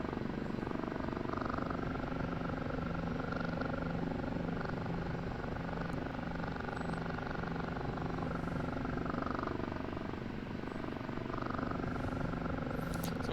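OH-58D Kiowa Warrior helicopter in the DCS flight simulator, a steady droning rotor and turbine hum with a constant even beat throughout, alone without talk.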